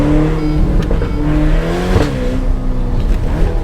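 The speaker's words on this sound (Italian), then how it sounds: "È scoppiettato." Ferrari engine revving hard with pitch rising and falling across several throttle blips, loud and close, with faint crackles on the overrun.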